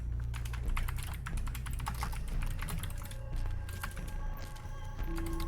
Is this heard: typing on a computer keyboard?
yes